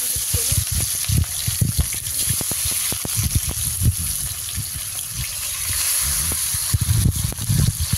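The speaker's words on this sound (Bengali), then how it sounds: "তেলটা আমি দিয়ে দিচ্ছি প্রথমে টমেটো তেলে।" Tomatoes frying in hot oil, giving a steady crackling sizzle with frequent sharp pops and spits close by, and no talking.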